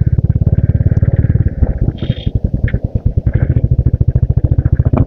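A chrome red Royal Enfield Classic 350 thumps close and loud with its single-cylinder engine, a rapid, even pulsing beat that briefly slows and then picks back up while riding.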